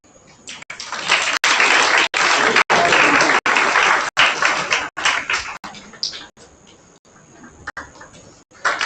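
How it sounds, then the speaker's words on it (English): Loud, sustained applause from an audience at a grand inauguration ceremony, broken by brief repeated cut-outs, fading into scattered claps toward the end. "Please join me in giving a thunderous round of applause"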